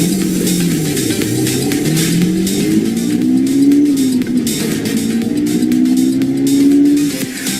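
All-new Ford Mustang engine revving steadily, a loud continuous drone with rising and falling pitch sweeps, close by, with no voices.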